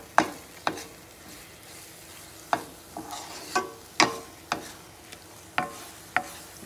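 Eggs cooking in an omelet pan for a breakfast burrito are stirred, giving about a dozen short, distinct scraping taps at irregular intervals over a faint low sizzle, with no talk.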